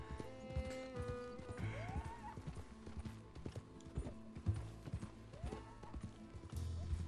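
Horse hooves clip-clop in the video game Red Dead Redemption 2, an uneven run of hoofbeats with a whinny and some mechanical clicks mixed in, fairly faint.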